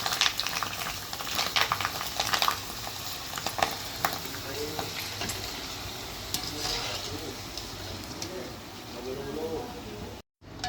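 Pakodi fry in hot oil in a home kitchen, a continuous crackling sizzle with occasional stirring and utensil clinks, close and fairly loud, with a person talking over it.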